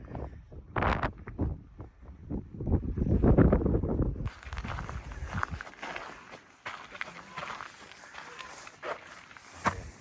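Wind gusting across an open mesa top among ancestral Pueblo building ruins, a rough, steady buffeting roar against the microphone, with footsteps and movement early on and a voice speaking at the start.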